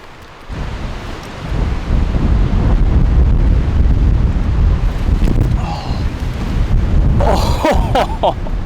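Strong wind gusts buffeting a microphone outdoors near cliffs, a loud continuous roar that swells and holds, with faint brief voice sounds near the end.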